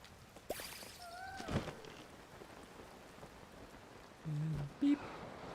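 Rain falls in the game Tears of the Kingdom as a faint, steady patter across the whole stretch, with a few brief game tones and some quiet talk over it.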